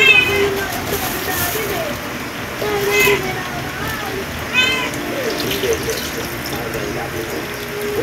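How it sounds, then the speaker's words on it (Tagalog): Thick coconut cream poured into a cooking pot of squid and eggplant makes a soft, continuous liquid pour under a person talking, with faint high cries in the background. "ilalagyan na po natin itong ating kakang gata"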